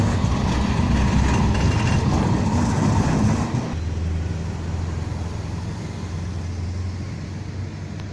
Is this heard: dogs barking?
no